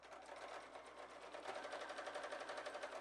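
A sewing machine stitches a 3D pinwheel quilt block seam at a 1/8 inch seam allowance: a faint, rapid, even rattle of needle strokes that speeds up slightly partway through, with no voices.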